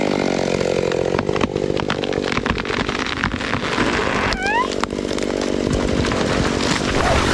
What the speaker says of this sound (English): a person skillfully uses a chainsaw to cut a huge tree